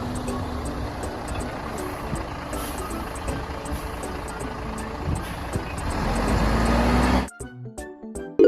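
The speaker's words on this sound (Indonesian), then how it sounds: "Concrete truck" A concrete mixer truck's diesel engine idles with a low, steady rumble. A faint, regular beeping repeats over it. Near the end the engine surges louder, then cuts to sparse clunks and clicks.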